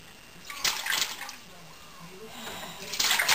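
A child splashes water in a bathtub, with two bursts of sloshing and splatter separated by a calmer stretch. The splashing sounds close and moderately loud, and a faint voice is audible underneath.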